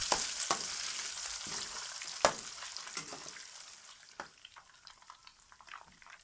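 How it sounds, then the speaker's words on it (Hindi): Eggs frying in a karahi, a quiet crackling sizzle broken by sharp scraping and tapping strokes of a utensil, fading gradually toward the end, no talk. "किसी भी कढ़ाई में अगर अंडे को यहाँ फ्राई कर लिया जाए"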